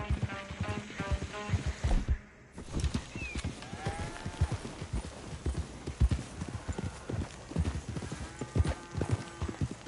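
Horse hooves clip-clop in a steady galloping rhythm while riding in Red Dead Redemption 2, close and continuous for about ten seconds, with a brief whinny and people talking faintly underneath.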